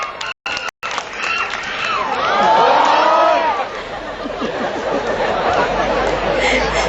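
Crowd noise at a school som tam (papaya salad) pounding contest with choreography, where an audience claps and cheers in a steady, loud wash of applause and chatter that swells in the middle and carries on to the end.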